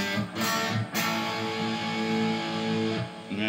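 Harley Benton SC-450 electric guitar played through the bridge pickup, with sustained ringing chords struck a few times, the notes decaying between strums, close and alone.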